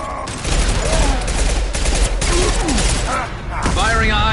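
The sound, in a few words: gunfire in the video game Mass Effect 2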